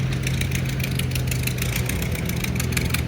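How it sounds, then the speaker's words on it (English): A propane-fuelled Ford tractor engine idles steadily and close by at a classic tractor show, a low rumbling throb with a rapid knocking pulse running throughout. "We got a guy pulling out with a propane Ford right here"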